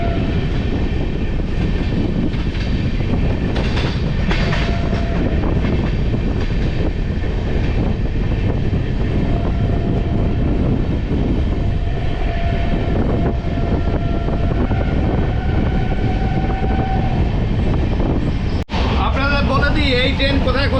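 The 13161 Tebhaga Express, newly fitted with LHB coaches and travelling between Bardhaman and Dum Dum, rumbles loudly and steadily from on board, with faint rail clatter and rattling throughout and a short break near the end.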